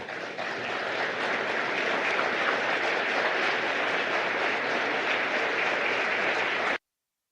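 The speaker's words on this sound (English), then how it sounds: "join us in a huge round of applause as they take their leave" Large audience applause as dignitaries leave the India-Japan Joint Economic Forum venue, a dense, even wash of clapping sustained for nearly seven seconds before cutting off abruptly.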